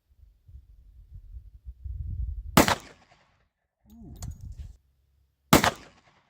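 Two sharp, loud pistol shots from a Glock G29 fired at a target on a range, each a sudden broadband crack with a short decay, spaced about three seconds apart, with low rumbling handling noise and a brief murmur between them.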